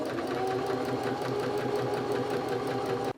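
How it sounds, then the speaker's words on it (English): A domestic sewing machine stitches fabric at a steady, fast pace, its motor hum and rhythmic needle clatter running continuously and close up, alone, before stopping abruptly at the end. "Pivot the fabric round, presser foot down, and continue sewing."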